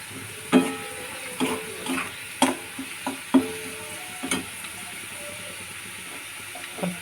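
Onions frying in a pan until reddish-brown, a steady sizzle broken by sharp scraping clicks of a spatula stirring at irregular intervals, close and moderately loud with no talking.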